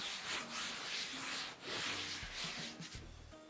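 Rolling pin pressing and sliding over thin, lightly floured dough for Korean bajirak kalguksu noodles, a steady soft rubbing swish with a few gentle knocks, close and alone.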